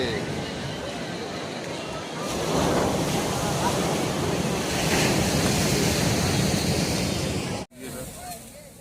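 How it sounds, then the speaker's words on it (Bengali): Sea waves breaking on the beach at Digha, a broad continuous wash of surf with wind buffeting the microphone, swelling louder midway before a brief cutoff near the end. "দেখতে পাচ্ছ পেছনে ঢেউ কি আসছে।"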